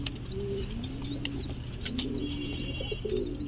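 Pigeons, a pair of Lahori birds, coo softly nearby in a few short warbling phrases over a low steady background hum, with faint higher chirps mixed in.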